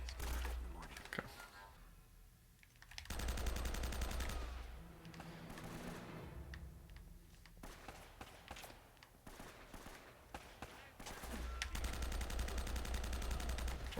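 Gunfire from the video game Uncharted, with bursts of rapid shots and impacts in a dense, noisy game soundtrack, loudest near the start and again at the end.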